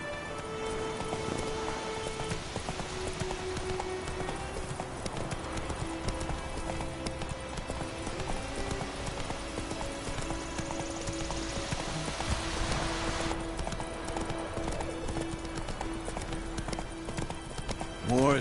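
Roach, the horse in The Witcher 3 video game, clip-clops along at a steady pace in a continuous run of hoofbeats under light rain, with game music and ambience.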